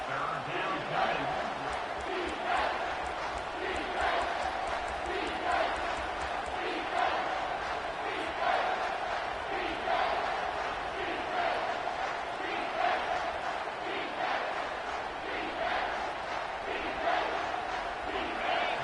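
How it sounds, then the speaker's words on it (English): A college football stadium crowd roars on third down, a dense sustained wall of noise with chanting pulses, under a commentator talking. "Decibels rising as the crowd gets behind this defense on 3rd down."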